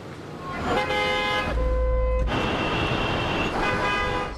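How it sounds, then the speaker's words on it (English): Several car horns honk in overlapping bursts, one long low blast among them, over steady traffic rumble in gridlocked Center City streets. "Horns honking, cars crawling through gridlock Center City streets"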